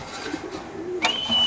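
Gola pigeons at a pigeon market give soft low coos, faint and close, followed by a brief higher squeak near the end.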